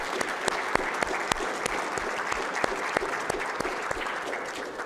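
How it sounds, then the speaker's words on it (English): Lecture-hall audience applauds the DART team, a steady wash of many hands clapping close and loud, with sharp individual claps popping through for the full stretch. "I'd like to give the DART team a round of applause for their time"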